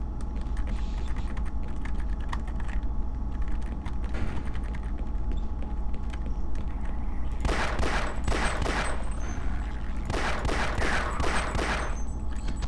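Gunfire in the Half-Life video game, played on difficult: two bursts of rapid shots near 7.5–9 s and 10–12 s, loud and close, over a steady game ambience hum with no talk.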